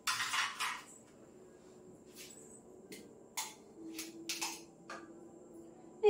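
Spoon scraping and tapping against a metal idli mould while kneaded batter is dropped into the oiled cups; several short, quiet clinks and scrapes with pauses between, close by, no talking.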